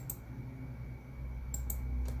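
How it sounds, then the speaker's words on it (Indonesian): Computer keyboard key press and mouse clicks while working in PowerPoint, a few faint sharp clicks scattered over quiet room hum, with no voices. "menekan tombol CTRL pada keyboard, kemudian mengklik semua lingkaran"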